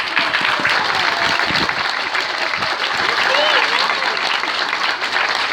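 Audience at a sea lion show at Nausicaa aquarium applauding loudly and steadily, a dense wash of many hands clapping throughout with some voices mixed in.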